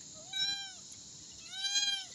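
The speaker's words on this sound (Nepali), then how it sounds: "माया लाग्छ बिरालोको" A cat meows twice, each call a clear rising-then-falling cry close by, separated by a short pause, heard at a home in a Nepali village.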